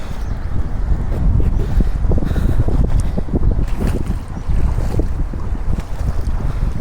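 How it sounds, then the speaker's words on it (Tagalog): Strong wind roars steadily into the microphone with heavy buffeting, over a low rumble of river water in Taiwan, continuous and loud throughout. "ang lakas na ng hangin"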